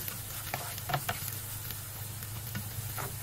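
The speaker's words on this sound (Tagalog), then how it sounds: "Igigisa ko lang yung sibuyas." Onions sautéing in a little oil in a pan, a soft steady sizzle with a few light spoon scrapes and taps, close and fairly quiet.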